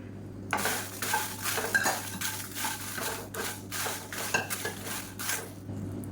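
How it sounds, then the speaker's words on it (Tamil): A mix of round and long dried chillies dry-roasting in a kadai, stirred with a utensil that makes repeated rhythmic scraping and rustling strokes against the metal, close and moderately loud, with no voices. "கால் கிலோ மிளகாய் எடுத்திருக்கேன் நான் வந்து குண்டு மிளகாயும் நீல மிளகாயும் கலந்து எடுத்திருக்கேன் இதையும் சேர்த்து நல்லா வறுத்துக்கலாம்"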